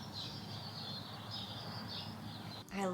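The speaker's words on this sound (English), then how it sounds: "you guys hear the birds chirping outside?" Birds chirping outdoors, heard from inside a room: faint, repeated high chirps come and go over a steady low background hum.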